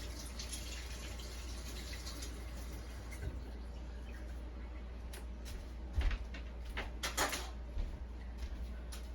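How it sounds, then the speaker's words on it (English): Lime-coated waterglassed eggs rinsed under running water in a kitchen, with a soft continuous trickle of water and a few louder splashes and knocks near the end. "just rinse it off, rinse the lime off"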